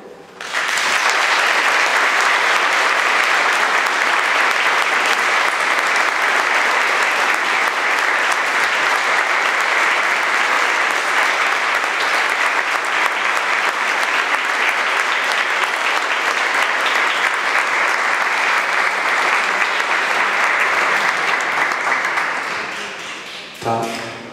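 Warm, sustained audience applause at an evening ceremony in Chrudim honouring the town's personality of the year; dense, loud clapping runs steadily for over twenty seconds before tapering off at the end.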